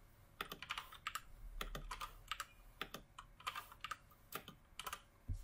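Rapid, irregular clicks of a computer keyboard as Python code is typed, close and crisp in short bursts with brief pauses, alone without speech.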